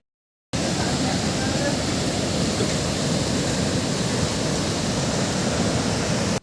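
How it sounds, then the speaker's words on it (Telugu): Rajupalem waterfall carrying fast, muddy floodwater after heavy rain, a dense constant roar that begins abruptly and holds loud and unbroken to the end, close to the listener. "ఆ వాటర్ వచ్చే స్పీడ్ని కూడా ఒకసారి గమనించండి, ఎంత ఫాస్ట్గా వస్తుందో. సౌండ్ వినిపిస్తుంది కదా మీకు"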